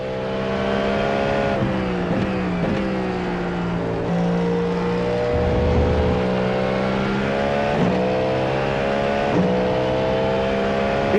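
Cadillac GTP prototype race car engine in the iRacing simulator, a steady loud drone with rising and falling harmonic pitch as the car shifts and brakes through corners, continuous and close throughout.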